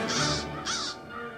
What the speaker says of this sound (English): she sent a flock of wild crows